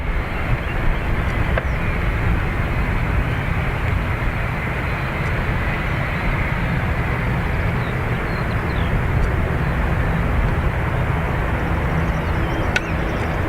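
An American Airlines jet, flight 725, rolls for takeoff on runway 28 right at Dublin Airport, its engines a broad, steady roar that holds constant throughout, heard from a distance with no voices.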